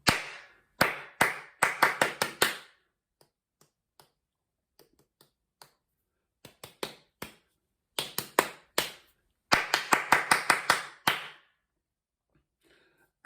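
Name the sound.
clapping a rhythm along with the lesson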